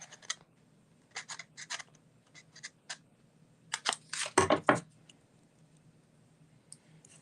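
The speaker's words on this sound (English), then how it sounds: "we're going to do another little snip here" Scissors snip paper for handmade card making in a run of short, crisp cuts, some single and some in quick pairs, close by and fairly quiet against a still room.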